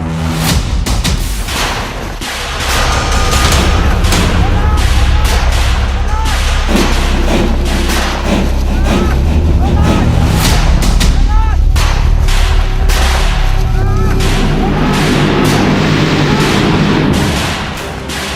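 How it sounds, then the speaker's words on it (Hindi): Gunfire and bomb blasts from a Maoist attack in the Jhiram valley, a dense, continuous barrage of sharp cracks and heavy booms layered over each other, loud and sustained throughout. "गोलियों की आवाज, बम धमाकों ने बता दिया माओवादियों ने हमला बोल दिया"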